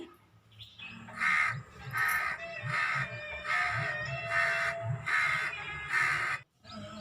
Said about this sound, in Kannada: ನೋಡಿ, ಇಲ್ಲಿ ಯಾವ ರೀತಿ ಕಾಗೆ ಕೂಗ್ತಾ ಇದೆ ಅಂತ ನೋಡಿ.